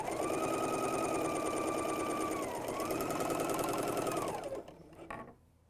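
A BERNINA L 660/L 650 overlocker gathers fine soft fabric with a 4-thread overlock stitch at maximum 4.5 stitch length. Its continuous close, rapid whirring dips briefly midway, then trails off into quieter handling sounds.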